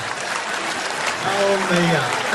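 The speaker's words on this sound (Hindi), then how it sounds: "एक बार तालियां बजा दीजिए" Audience clapping at a Hindi comedy show, a brief burst of dense applause with a voice speaking over it.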